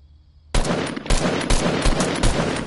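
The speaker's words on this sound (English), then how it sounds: "shoot my ramp, shoot my ramp" Rapid video game gunfire in bursts, loud and close, starting abruptly after a quiet moment and continuing as repeated sharp volleys with no talk over them.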